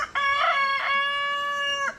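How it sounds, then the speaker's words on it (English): Homestead chickens are heard up close as a rooster lets out one loud, drawn-out crow of a little under two seconds, with a short clucking burst partway through. "there's your coffee chat with the chickens"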